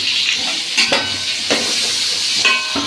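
Potato pieces frying in oil for mutton biryani give a steady close sizzle, with a few sharper stirring scrapes against the pan.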